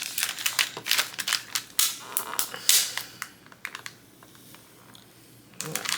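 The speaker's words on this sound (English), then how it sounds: "I want to really make sure I scrape that down." Rough scraping and rubbing strokes as glitter vinyl is scraped down onto a wood sign, a dense burst of close, scratchy swipes that thins out, then one last scrape.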